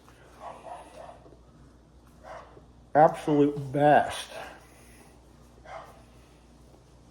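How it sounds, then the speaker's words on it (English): Dogs barking in a burst of several loud, harmonic yelps close by, surrounded by a person talking before and after. "I want to apologize for those dogs barking."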